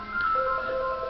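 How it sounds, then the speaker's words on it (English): A phone's text message notification chimes faintly in the background, a short melodic tone sequence over a room hiss. "And that's my phone you hear in the background."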